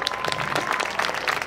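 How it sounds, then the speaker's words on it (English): Audience applause for a high school marching band at a football-season performance, a dense, steady wash of clapping with a faint crowd murmur, fairly close and continuous. "Let's have one more round of applause for"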